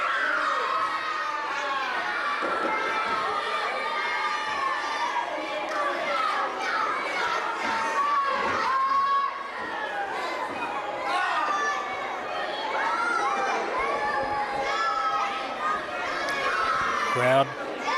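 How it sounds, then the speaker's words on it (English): Dense crowd noise fills a pro wrestling arena as fans cheer for John Noble, a steady roar of overlapping voices and shouts throughout, with no clear commentary above it. "Crowd cheering on Noble as he's up to one knee."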